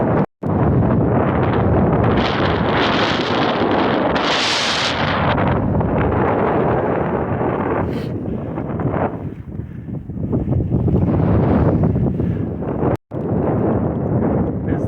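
Strong wind roars into the microphone of a rollerblader skating on a cold, open road, a loud continuous buffeting rush that barely lets up, with two sharp dropouts.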